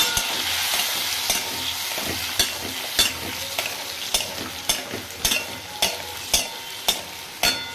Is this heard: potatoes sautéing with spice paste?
yes